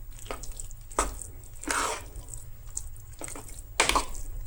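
Sweet Goan appe batter with almonds and peanuts being mixed in a bowl, several separate bursts of wet stirring and scraping with quiet gaps between them, close up and without talk.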